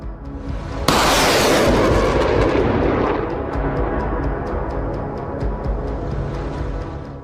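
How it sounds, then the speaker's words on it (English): A T-80 tank fires in an area of raised buildings and rubble, one loud booming blast that rolls into a long echoing rumble and slowly fades, with no voices. "a T-80 tank can be seen firing to its left in an area of raised buildings and rubble"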